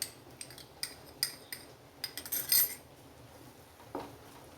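A spoon mixes Maggi masala powder into cooked noodles, giving light metallic clinks and scrapes in an uneven cluster, then a soft dull knock, close and quiet with no talking.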